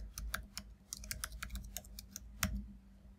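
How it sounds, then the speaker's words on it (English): Quick irregular keystrokes on a computer keyboard, a close, quiet run of clicky taps lasting a few seconds with no talk. "So I'm going to type chord intervals."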